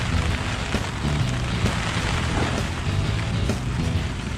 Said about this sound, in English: A little bit of lightning, thunder.